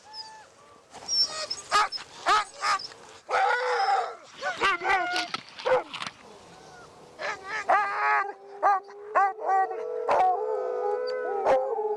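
Sled dog teams on a Greenland expedition bark, yip and howl in a busy overlapping chorus, sharp barks giving way to long drawn-out howls, fairly close and loud throughout.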